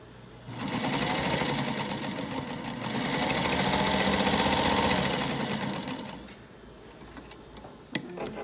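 The Beryl sewing machine stitches forward at high speed in one continuous, fast, even mechanical clatter lasting about six seconds, then stops, followed by a few light clicks and handling noises.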